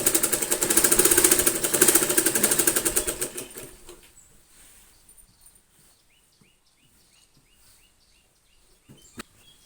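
Home sewing machine stitching a fall onto a saree: a loud, fast mechanical chatter runs for about four seconds, then stops, leaving quiet fabric handling and a few faint clicks.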